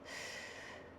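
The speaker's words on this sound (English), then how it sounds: "Take a big breath in." A big breath drawn in during a morning mobility stretching workout, heard as a single close, steady airy inhale lasting about a second with no talking.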